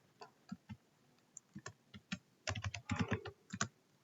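Typing on a computer keyboard while writing Python code, with scattered single key clicks early on, then a quicker, louder burst of keystrokes toward the end, close and clear with no talking.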